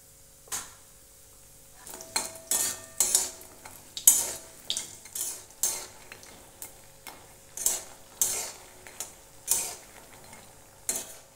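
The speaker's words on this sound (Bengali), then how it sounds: "এখন বড়িটা আমি ভেজে নেব" Bori lentil dumplings frying in mustard oil in a wok: a faint background sizzle broken by a run of sharp, irregular metallic scrapes and clinks as a spatula stirs, loud and close.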